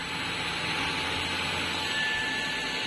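A Dreame H12 Dual handheld vacuum runs continuously with a steady, bright whirring hiss, close and alone, cutting off abruptly at the end.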